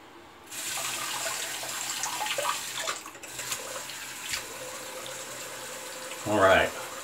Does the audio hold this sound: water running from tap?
yes